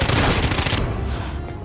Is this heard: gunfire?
yes